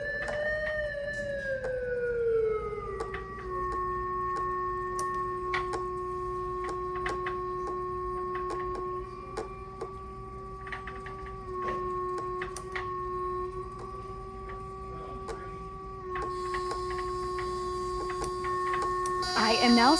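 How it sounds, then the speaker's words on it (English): A synthesizer's sustained electronic tone, driven by a distance sensor, glides down in pitch as an object moves, then holds steady with slight wavering and a brighter buzzy shift near the end, loud and continuous. "As I move the object closer to and farther from the sensor, listen to how the audio responds."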